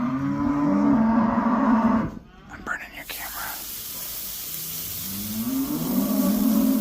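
Long, low cattle moos at the start and again at the end, with a brief whisper and a soft hiss in between.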